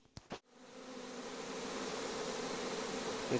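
A steady honey bee swarm buzz hums continuously and swells slightly louder, following a couple of brief knocks at the start.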